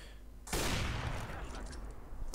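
In the video game CS:GO, a sudden loud volley of gunfire erupts after a quiet moment, then rattles on in a dense, sustained burst close at hand.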